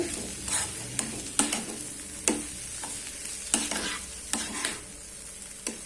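A spoon stirs and scrapes okra stir-fry with grated coconut in a pan, irregular close clinks and scrapes over a soft, steady sizzle, no voices.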